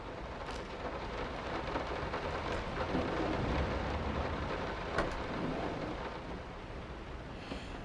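Rain and thunder surround the listener in binaural sound in the horror video game Layers of Fear, with steady heavy rainfall, low rumbling thunder and a few sharp cracks, all quiet and continuous with no talking.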